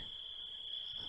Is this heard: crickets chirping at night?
yes